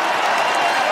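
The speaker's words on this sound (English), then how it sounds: "Klay Thompson igniting the crowd here at Oracle Arena" Dense arena crowd at Oracle Arena roaring and applauding during a Golden State Warriors game as Klay Thompson hits a three-pointer, a loud continuous wash of cheering and clapping.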